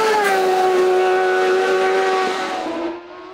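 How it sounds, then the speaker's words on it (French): A Jade LW01B race car with a BMW engine climbs during the Turckheim 2025 hill climb, its loud high engine note holding steady and then dropping in pitch as it passes, fading out abruptly near the end. "Lionel Jacob, dans un très beau mano à mano, s'offre un 6e succès, le 5e consécutif cette saison, avec son Jade LW01B à moteur BMW"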